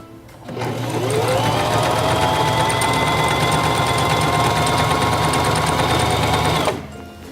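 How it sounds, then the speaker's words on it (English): A Singer Simple 3232 sewing machine stitching fabric, running in one continuous, steady whirring and rapid needle chatter for several seconds, loud and close, starting and stopping abruptly with no talk. "Place the fabric under the presser foot, lower the presser foot, and begin sewing."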